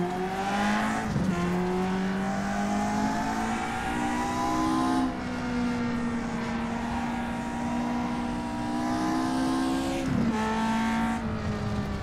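A race car engine in a sim racing game, loud and continuous, revving up and down through gear changes with sharp pitch drops around shifts, heard alone without talk.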